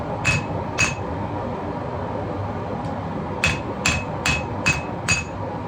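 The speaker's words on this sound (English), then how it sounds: "If it's not straight, give it a couple taps" A hammer taps a hot chef knife blade to straighten it, giving sharp metallic clinks: two early strikes, then a quick run of five evenly spaced taps, close against a low background hum.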